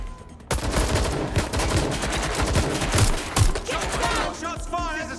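Gunfire in the video game Watch Dogs Legion: a loud, dense burst of rapid shots and fusillade cracks lasting several seconds, with sharp individual reports standing out, no talk in the clip.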